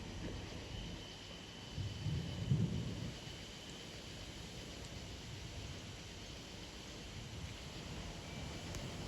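Thunder rumbles in a severe evening thunderstorm with strong wind gusts and light rain, with one low swell a couple of seconds in, then a faint steady rain-and-wind hiss for the rest.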